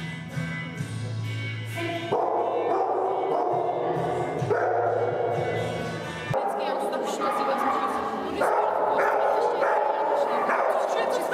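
A dog yips, whimpers and barks in short bursts, close and fairly loud, over a background with tonal sounds and a voice.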